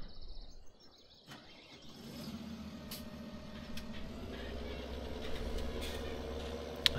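A tractor in Farming Simulator 2017 on the Slovak Village map, its engine starting quietly and building into a steady, rising drone as it drives, with faint bird chirps in the background.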